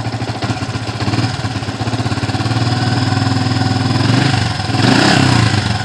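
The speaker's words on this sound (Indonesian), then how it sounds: "Coba saya gas pelan" A Yamaha Vixion motorcycle engine with a battery that keeps running down is gently revved up from idle, a close, loud, steady throb that rises slightly in pace toward the end.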